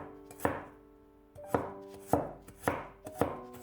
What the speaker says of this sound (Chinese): 几瓣去皮洗干净的大蒜先切成薄片